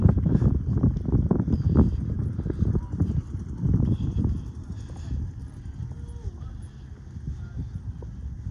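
Donkeys walking through an empty street on Grand Turk in the Turks and Caicos, hooves clopping in an uneven rhythm that fades somewhat over time, with talk in the background.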